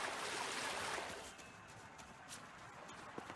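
Steady flowing water in a fairy village demon haunt from Shin Megami Tensei V, a broad soft wash that is louder in the first second, then settles into a quieter, continuous stream with no voices.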